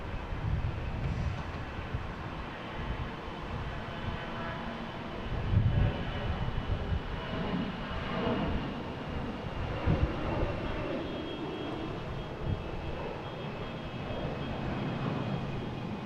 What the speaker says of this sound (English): we got a Delta taking off to Raleigh, Durham. A319, flight 2283